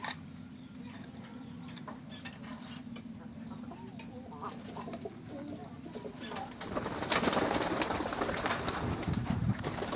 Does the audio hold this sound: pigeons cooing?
yes